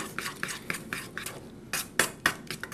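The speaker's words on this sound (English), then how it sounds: "I'm stirring a little vigorously here." A spoon stirs vigorously in a pot while cooking, giving a run of sharp metallic clinks and scrapes in an uneven rhythm, close and fairly loud.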